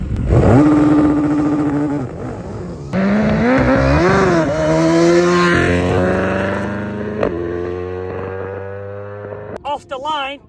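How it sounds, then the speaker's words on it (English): Race-prepped, remapped BMW S1000R motorcycles and an electric motorcycle launch off the line, loud rising engine whines climbing through gears, then fading as they pull away, with a commentator talking over them. "Off the line, that electric bike is mental."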